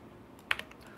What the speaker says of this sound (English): type in a number here